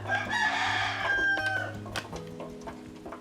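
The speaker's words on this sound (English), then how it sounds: "And that rooster says," A rooster crows once, fairly close and clear, with faint clucking and a few short clicks after it, and no speech.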